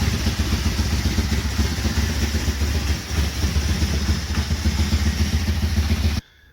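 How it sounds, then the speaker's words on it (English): A Kawasaki KZ750 twin motorcycle engine runs steadily and close, a loud clattering drone with audible cam noise that cuts off abruptly near the end, with no talking. "The engine sounds great. It's you can hear the cams working"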